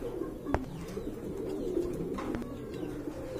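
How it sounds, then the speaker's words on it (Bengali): Large pigeons of two breeds, young birds kept for sale, cooing in low repeated murmurs with a sharp click at one point, close by and steady with no talk. "অনেক বড় সাইজের কবুতর"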